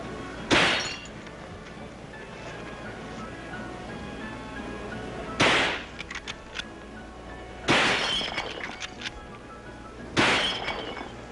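Four sharp, loud rifle shots ring out at a shooting gallery, spaced several seconds apart, each a crisp crack followed by a short rattling clatter.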